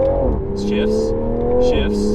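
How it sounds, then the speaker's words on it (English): 2021 Toyota Supra engine pulling lightly in second gear, a steady rising hum with two quick gear changes marked by brief pitch drops, heard close from inside the car. "So I'm in second gear right now. I'm just gonna go barely on the throttle."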